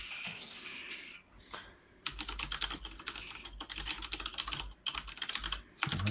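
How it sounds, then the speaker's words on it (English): Fast typing on a loud computer keyboard, close by: rapid, clattering keystrokes in bursts with short pauses between them. "My keyboard sounds really loud,"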